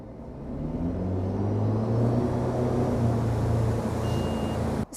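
An Axis wake boat's engine drones steadily as it accelerates up to speed, a loud, sustained low rumble with rising tones that cuts off abruptly at the end.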